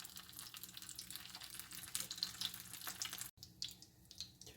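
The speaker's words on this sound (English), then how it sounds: "And let them fry." Chiles sizzling in a hot pan for chile rellenos, a steady crackling hiss with running water or tap-like wash underneath, fairly quiet, briefly cutting out near the end.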